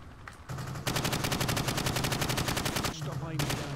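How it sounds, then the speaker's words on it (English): Sustained rapid automatic gunfire fired from the hip at targets in Call of Duty: Modern Warfare, a loud, dense rattling burst of roughly two seconds, with a few single shots just before and after it. "Shoot at the targets while firing from the hip."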